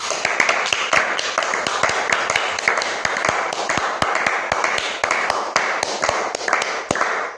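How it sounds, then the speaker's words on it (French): A church congregation claps in a fast, steady rhythm of sharp, loud hand claps that continue throughout, with no talk over them. "Applaudissons pour le Seigneur Jésus"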